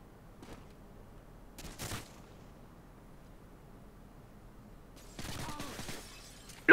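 Gunfire in the video game Modern Warfare 2, short bursts of sharp cracking shots in two clusters separated by quiet, ending in one loud close blast.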